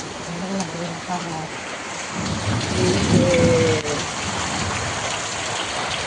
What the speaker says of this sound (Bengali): কত জোরে পানি হচ্ছে, পানি